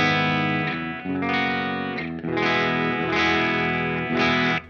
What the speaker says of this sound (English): So we're going to start off with a clean tone on the bridge pickup.